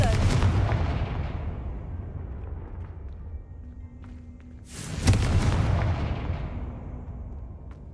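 Confringo blasting spells explode in the Hogwarts Legacy video game, with two heavy booming blasts that each roll out into a long decaying rumble, loud and close.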